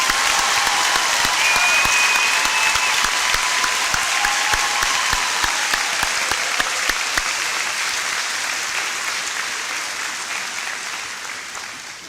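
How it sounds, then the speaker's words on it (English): Enthusiastic audience applause at a high school graduation ceremony, a dense wash of clapping from a large crowd that holds steady and slowly tapers toward the end. "Ladies and gentlemen, a big round of applause for these individuals."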